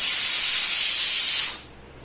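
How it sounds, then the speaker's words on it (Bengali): A pressure cooker whistle releases steam on a kitchen stove in a loud, sharp, steady hiss that cuts off after about a second and a half. "প্রথম সিটিটা উঠে গেল"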